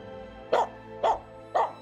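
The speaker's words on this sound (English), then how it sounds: "Why are you barking at me?" A Finnish Spitz gives three sharp barks, evenly spaced about half a second apart, close by over a faint outdoor background with no talking.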